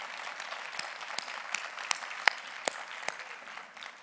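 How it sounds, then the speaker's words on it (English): National PTA convention audience applauds in a large hall, a sustained patter of clapping with distinct sharper claps popping out at intervals, moderately loud and tapering near the end. "Give yourselves a round of applause for charting of this course"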